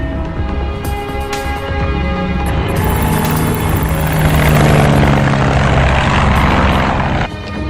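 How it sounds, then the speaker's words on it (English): A propeller plane drones steadily in flight, its engine loud and close throughout, with a rough, constant roar that swells slightly midway. "This plane will get you to where you need to go."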